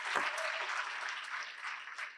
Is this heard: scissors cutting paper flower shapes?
no